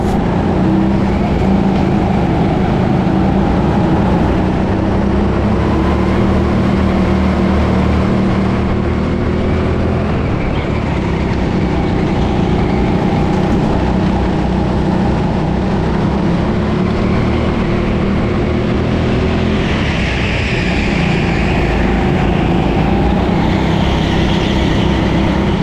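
Go-karts race wheel to wheel on an indoor track, a loud continuous engine drone from close by that holds steady throughout, with a brief higher whine rising near the end and no talking.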